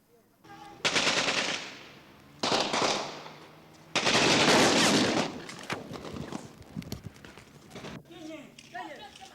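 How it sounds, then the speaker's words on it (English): Gunfire in city streets during the 1975 Angolan Civil War: several loud, separate bursts of rapid machine-gun fire, each lasting about a second or more, with a voice heard at times between them. "we could hear gunfire"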